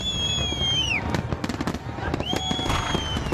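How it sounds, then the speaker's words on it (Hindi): Diwali fireworks crackle and pop in rapid bursts while high whistling rockets climb and fall, the noisy celebration dense and continuous. "जमीन से लेकर आसमान तक आतिशबाजी"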